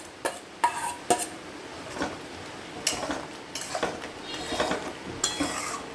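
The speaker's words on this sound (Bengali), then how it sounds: "এবারে পোস্তটা আমি দিয়ে গ্যাসটা বাড়িয়েই রেখে দেব, জলটাও টেনে নেবে।" Ground poppy seed paste going into ridge gourd in a pan, heard as a series of close spoon scrapes, metal clinks and stirring knocks with light sizzling between them, and no voices.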